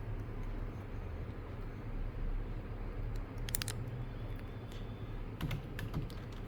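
Soft, quiet key presses on a Logitech MK540 wireless keyboard, a scattering of light taps over a steady low hum, with a short cluster of clicks near the end.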